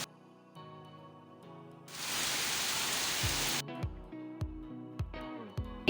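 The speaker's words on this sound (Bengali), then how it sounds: "এই যে অকাল বর্ষণ শুরু হয়েছে" Untimely, out-of-season rain falls in a steady broadband hiss for a couple of seconds, sandwiched between stretches of tonal music with thumping beats.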